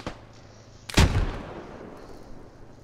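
Gunfire in a video game firefight, with one sharp shot at the very start and then a single loud, booming blast that rings out and decays slowly, close by with no talking.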